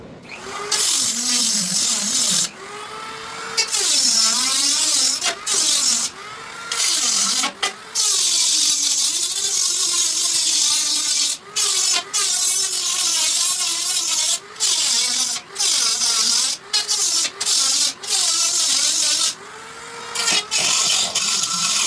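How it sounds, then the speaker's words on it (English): A high-pitched rotary tool whines continuously, its pitch wavering as it grinds metal, stopping and restarting several times in short bursts. "I do have a Dremel with a bit that's going to get clogged with aluminum"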